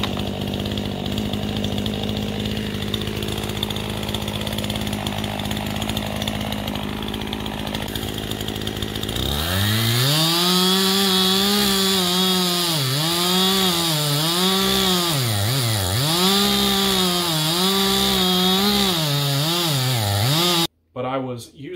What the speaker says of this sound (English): I was actually chainsawing. I may put in a little clip here of that.